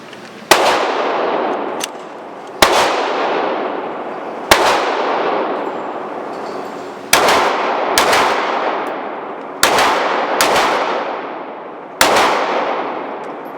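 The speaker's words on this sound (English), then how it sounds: "So I did a little bit of a double tapping there" HK VP9 pistol fired at an outdoor range, loud sharp reports in single shots and quick double taps, each followed by a ringing echo tail, about eight shots across the stretch with no talk.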